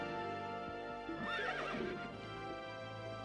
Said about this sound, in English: Let's go to the stables, buy a horse for Leon